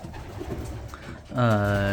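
Breeding pigeons in a loft give a loud, close, throaty coo near the end, following a stretch of the keeper talking with soft bird sounds behind.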